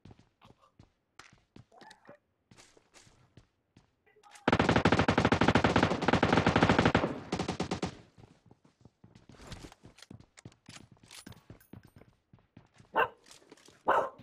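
Gunfire from an M249 machine gun in online gameplay, a long dense burst of rapid shots in the middle, surrounded by sharp clicks, footsteps and scattered short barks from a dog.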